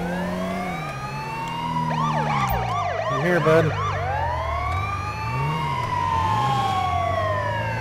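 Ambulance siren in the video game GTA V, wailing and yelping through rising and falling sweeps, loud and continuous, with a police siren mixing in and a brief spoken line.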